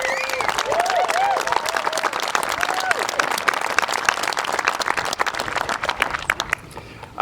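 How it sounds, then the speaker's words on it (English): Sustained applause from a crowd at a stadium renovation groundbreaking, dense clapping with a few whoops and cheers early on, gradually thinning toward the end. "I would like one particular round of applause for Louise Vaughn and the work that she has"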